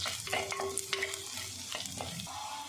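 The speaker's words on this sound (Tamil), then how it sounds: "இது நல்லா ஹீட்டில் நல்லா மிளகா வத்தல் நல்லா பொரிய ஆரம்பிச்சிடும்" Dried red chillies and onions fry in hot oil, a moderate sizzle close by, broken by intermittent stirring scrapes and clinks, with nobody talking.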